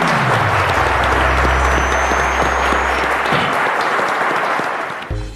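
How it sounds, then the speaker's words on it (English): Loud audience applause for contestants on a televised quiz competition, steady and dense over a low music bed that fades before the clapping tapers off at the end. "Ladies and gentlemen, a round of applause for them."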